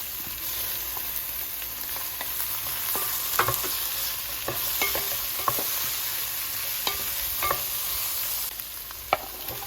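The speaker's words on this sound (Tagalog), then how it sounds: "oil in a pan, saute your onions, garlic, add shrimp" Onions, garlic and shrimp sauté in hot oil in a pan, a continuous sizzle broken by scattered scrapes and taps of a stirring utensil.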